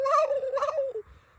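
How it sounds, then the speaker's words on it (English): Wild turkey gobblers gobbling in New Mexico, a single rapid warbling gobble lasting about a second, moderately distant and clear against a quiet background. "there are 6 gobblers here"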